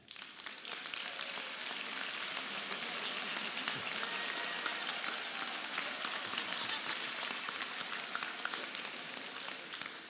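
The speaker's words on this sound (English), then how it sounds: "I would ask our students who graduated in 4 years to stand and be applauded" Sustained applause from a commencement ceremony crowd for graduating students of a hotel and restaurant management college, a dense, even wash of clapping that continues steadily throughout.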